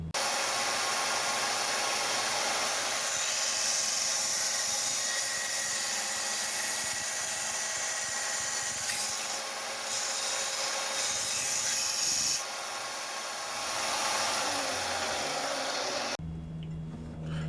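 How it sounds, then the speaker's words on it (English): A bench grinder grinds a steel extractor part for a Walther P38 pistol, giving a steady, loud abrasive whir with rasping contact that runs almost unbroken for about sixteen seconds, dipping briefly midway before the motor spins down at the end. "I'm going to have to take it to a grinder."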